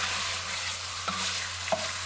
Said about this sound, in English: Let that come to a simmer.